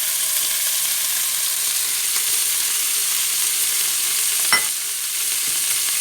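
Meatballs tipped into a pot of sautéed mushrooms for a vermicelli rice dish, with a steady, even sizzle holding throughout and one brief sharp clink or scrape near the end.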